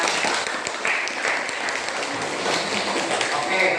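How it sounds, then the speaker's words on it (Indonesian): Classroom of students clapping in a morning lesson, a brisk burst of applause close by, mixed with voices talking over it. "Terima kasih tepuk tangan"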